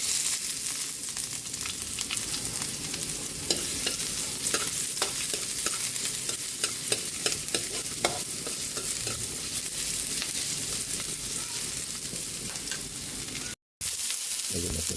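Garlic and onion sautéing in a pan for Filipino clam tinola, a steady close sizzle and frying hiss with stirring scrapes throughout, no voices.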